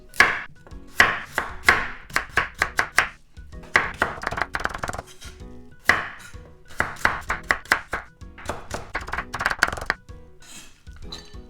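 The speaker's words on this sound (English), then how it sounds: "Then I'm gonna keep cutting like this." Knife chopping vegetables on a cutting board for Korean namul side dishes, quick bursts of sharp, crisp taps in rhythmic runs separated by short pauses, close and clear.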